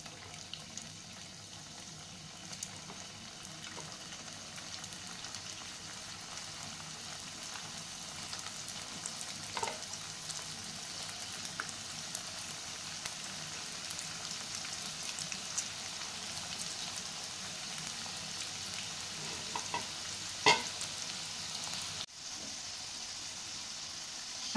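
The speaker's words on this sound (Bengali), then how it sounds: "এবার আমি এটা তেলে ভাজবো।" Mini samosas deep-frying in oil over low heat, giving a steady, close hiss and crackle that runs the whole stretch, with a few brighter pops and small clinks breaking through.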